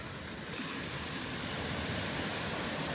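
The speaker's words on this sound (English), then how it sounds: "Look at those waves." Ocean surf breaks on Vanderbilt Beach in North Naples, Florida, as a steady, broad wash of waves with no voices.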